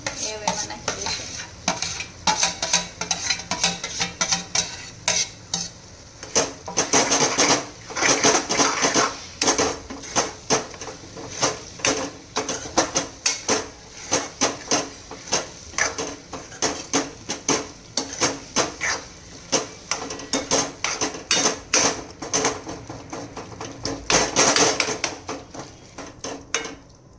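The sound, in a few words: stirring and mixing baingan bharta in a pan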